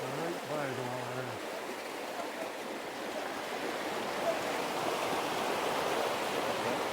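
A creek at the Catwalk Recreation Area in New Mexico flows in a steady broadband rush, close and continuous, with a brief hum of voices at the start.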